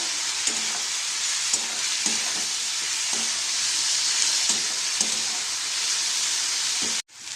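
Vegetables frying in a pan seasoned with salt and ground black pepper, a steady loud sizzle with periodic stirring scrapes, ending in a sudden brief cutoff.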